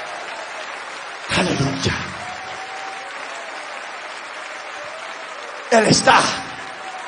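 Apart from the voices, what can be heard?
congregation applauding in church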